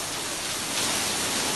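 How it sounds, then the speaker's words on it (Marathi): Heavy unseasonal rain lashes the town of Wadi in Bhandara district, a dense, steady roar of downpour that stays loud and uniform with no voices. "वाडी शहराला पावसानं झोडपून काढलेलं आहे."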